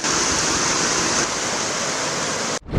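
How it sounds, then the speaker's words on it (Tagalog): Heavy rain pours down during Super Typhoon Julian in Ilocos Sur, a dense, loud, roaring wash like rushing floodwater that holds steady, then cuts off abruptly near the end. "Hanggang kaninang umaga, malakas pa rin ang buhos ng ulan sa ilang bayan sa Ilocos Sur."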